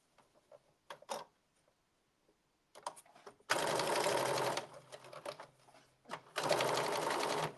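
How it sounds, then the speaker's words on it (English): A sewing machine stitches a blazer pocket flat near its edge, running in two long loud bursts of steady rapid whirring, with short faint handling clicks and brief starts between runs. "So now you're going to stitch the pocket flat 1/4 of an inch from the edge all the way around"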